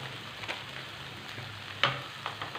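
Turmeric powder and meat masala frying in a pan for a snack, a low steady sizzle close by with one sharp stirring scrape near the end and no talk.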